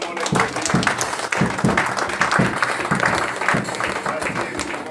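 A church congregation claps steadily during a worship service, a dense, rhythmic wave of applause filling the room throughout, with voices mixed into the crowd sound.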